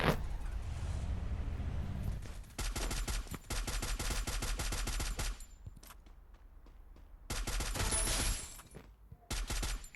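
Automatic gunfire in the mobile shooter Garena Free Fire Max, loud bursts of rapid shots broken by short pauses, with engine rumble from a monster truck underneath and a final burst near the end.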